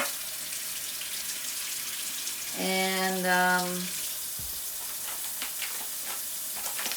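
Hot water runs from a kitchen tap to soften rice paper, a steady hiss throughout with a brief tonal hum in the middle.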